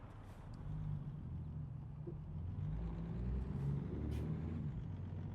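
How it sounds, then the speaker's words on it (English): A heavy truck engine in a video game drones steadily at close range, a continuous low rumble with a faint hiss on top. "I'm increasing the volume of the truck."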